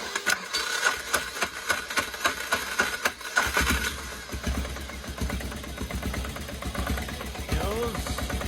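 A Polaris diesel engine turns over with a rapid rhythmic cranking, then catches and settles into a steady low running rumble, close by, while someone speaks over it.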